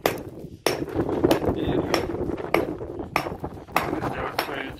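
A 1.5 kg hammer strikes a corner stone during stone dressing, sharp repeated blows roughly every half second to second, close and loud, with someone speaking briefly between strikes.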